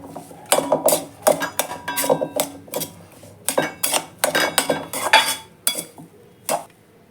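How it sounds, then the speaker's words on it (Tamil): Chopped onion and coriander being stirred together in a bowl for pani puri, a close run of irregular scraping and clinking strokes against the bowl, with no talk. "இப்போ சேர்த்துட்டு எல்லாத்தையும் மிக்ஸ் பண்ணிக்கலாம்"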